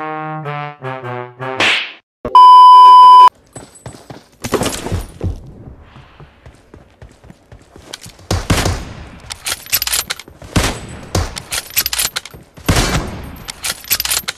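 Kar-98 sniper gunfire in the mobile game PUBG Mobile comes as sharp, loud cracks and rapid bursts of shots after a game chime and beeps, with scattered impacts in between.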